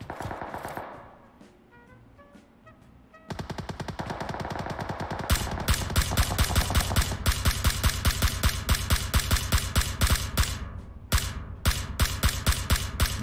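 Rapid automatic gunfire in PUBG Mobile, including an M416 rifle, comes in dense repeated bursts after a quieter opening with sparse shots, loud and close with steady rhythmic cracks through most of the stretch.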